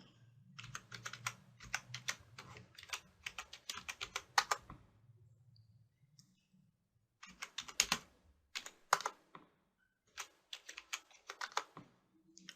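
Someone types a password on a computer keyboard: quick, crisp keystrokes in close, dry bursts, then a pause of a couple of seconds before more irregular typing resumes.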